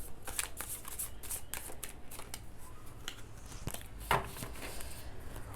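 Tarot cards being shuffled by hand, soft riffling and flicking bursts with a few sharper snaps, close and quiet, repeating irregularly throughout.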